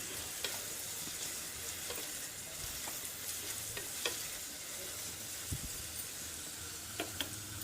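Curry leaves and onions sizzle and fry in a pan with occasional stirring clicks, a steady soft hiss alone without voices.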